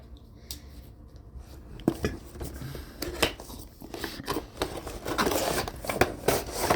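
Packaging on a GI Joe Classified Series Cobra Commander action figure box is cut open with a blade, giving close, quiet scraping and snipping bursts followed by rustling of cardboard and plastic.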